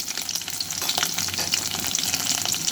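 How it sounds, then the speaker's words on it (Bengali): Onion stirred and frying in oil in a pan, dense crackling sizzle with rapid spitting pops and soft stirring strokes, steady and close. "পেঁয়াজ একটু নাড়াচাড়া করে নিলাম তেলে"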